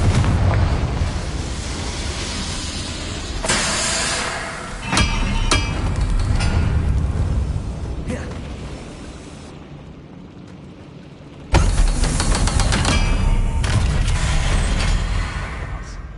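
Confringo blasting spell detonates in a Harry Potter video game, with loud booming explosions and rumbling debris that come in repeated bursts and fade between them.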